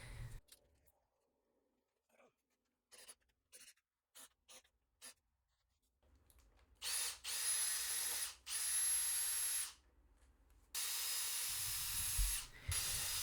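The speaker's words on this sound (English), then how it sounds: "I'm removing the index screws" A power driver backs index screws out of a wooden bicycle frame jig in a few loud, close bursts of whirring, with small scattered clicks and handling noises between them.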